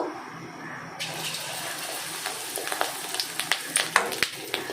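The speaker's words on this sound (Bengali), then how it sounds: "গ্যাসটা আস্তে দিয়ে দিলাম, দিয়ে ছোট্ট ছোট্ট করে আমি বড়া ভাজছি।" Small egg-and-onion fritters fry in hot oil in a wok on a lowered gas flame, a dense sizzle that jumps louder after a second and then crackles with sharp popping bursts toward the end.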